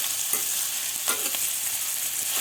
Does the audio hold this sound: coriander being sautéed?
yes